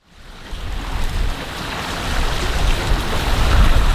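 Rain and waves surround a sailing boat at sea, a dense, loud wash of water hiss and gusting wind noise that builds steadily with no talking.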